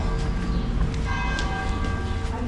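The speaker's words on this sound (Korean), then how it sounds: "9시 정각을 알리는 종소리가 들리는군요" A bell chiming the hour of nine along the Camino de Santiago in Spain rings out in a few clear, sustained strokes over steady outdoor street noise.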